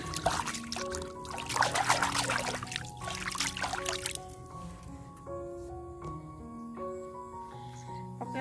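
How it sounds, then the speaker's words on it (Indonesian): Hands rinsed under a running tap in a village on a rainy morning, the water splashing and trickling for a few seconds before fading, with steady tonal music playing throughout. "Sambil cuci tangan dulu."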